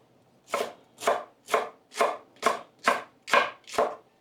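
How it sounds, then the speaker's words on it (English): Steady knife chopping for a goat okro soup, eight evenly spaced cuts about every half second, close and clear with nothing else heard. "We chop it up, divide it into 4."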